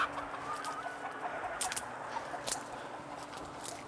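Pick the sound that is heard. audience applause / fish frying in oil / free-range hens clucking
free-range hens clucking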